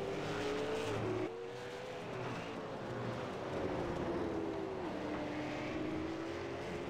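A race car engine in a retro sprint racing game holds a steady, continuous drone, its pitch shifting slightly with gear changes and cornering, and no voices are heard.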